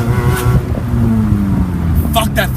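Manual stick-shift car engine revving during a downshift, a close in-cabin engine drone rising in pitch with a quick blip, and a voice talking over it.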